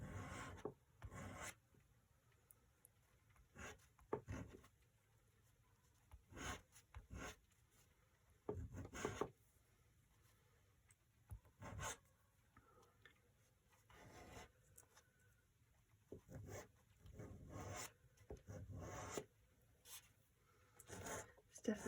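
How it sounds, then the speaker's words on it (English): Watercolour paint being scratched off paper to lift highlights on painted seaside stones, heard as a run of short, close, dry rasping scrapes in quick bursts separated by brief pauses. "scratching at various different areas until you get the effect that you want"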